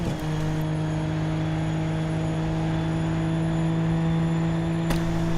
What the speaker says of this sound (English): Almost hitting the rev limiter up in 6th gear there